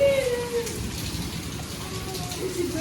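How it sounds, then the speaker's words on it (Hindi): Steady rain with falling hailstones patters outside, a continuous close hiss with a faint tone drifting through it. "मैंने देखा है कि बारिश हो रही है"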